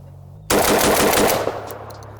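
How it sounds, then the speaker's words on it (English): A Rev Arms Impact M4 shotgun fired in a fast string of loud shots lasting about a second, the blasts running together into a rapid roar before ringing off into quieter background. "let's see how quick we can pull off these shots and if we can outrun the R4"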